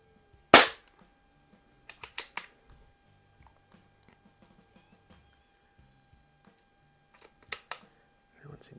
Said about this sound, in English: And we're going to shoot at the bottom bullseye here.